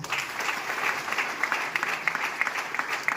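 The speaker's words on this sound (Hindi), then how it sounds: "और एक बार जोरदार ताली होनी चाहिए हमारे चंदेल सर के लिए" Audience applause for a speaker at a ZTC speech event: a dense, steady round of many hands clapping together, sustained and fairly loud for the whole stretch with no voices over it.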